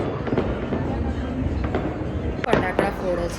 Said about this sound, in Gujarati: ફટાકડા ફોડે છે યાર લોકો